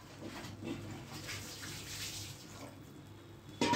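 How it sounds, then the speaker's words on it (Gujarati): Hot water poured into a cooking pot in a home kitchen while making veg biryani rice, a steady splashing pour lasting throughout at moderate level, with a brief louder clatter right at the end. "આ ગરમ પાણી મેં નાખ્યું છે."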